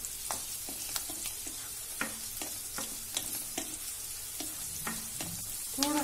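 Bell peppers sautéing in a pan for risotto, a soft constant sizzle broken by frequent rhythmic spatula scrapes and taps against the pan, close but quiet, with no speech.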